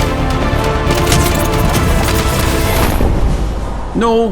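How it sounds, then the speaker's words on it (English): Missiles fire and explode in a space combat video game, a dense, loud run of booming blasts and crackling impacts that fades out near the end. "Fox 3, firing missiles."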